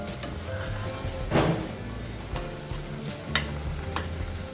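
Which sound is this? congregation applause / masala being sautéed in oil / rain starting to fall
masala being sautéed in oil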